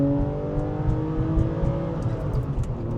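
2004 Porsche 911 Carrera 4S flat-six engine accelerating hard, a steady loud layered engine drone heard from inside the car with constant harmonic roar, no talking.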